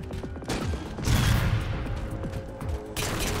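Boltshot pistol fire in Halo 4 multiplayer: bursts of sharp energy-weapon shots and a loud blast in the middle, close and forceful amid game action, no talk.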